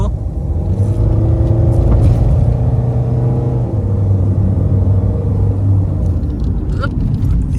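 A tuned, modified Mahindra XUV500 SUV rolling over a speed breaker, heard from inside as a loud, steady engine drone and low rumble with shifting tones as it slows and pulls away, plus a couple of knocks near the end.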